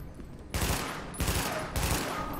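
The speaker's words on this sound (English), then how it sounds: "Ow, I'm getting shot." Bursts of gunfire in The Division video game, three loud volleys roughly half a second apart, each a dense crackling barrage that fades into lingering rumble.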